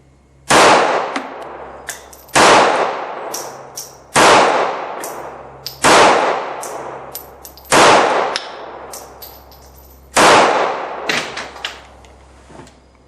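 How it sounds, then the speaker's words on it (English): Six sharp, loud gunshots from a Smith & Wesson Bodyguard 380 pistol, fired at a slow, fairly even pace about two seconds apart, each with a quick ringing decay and faint clinks in between. "This is my first time shooting the Smith & Wesson 380 Bodyguard."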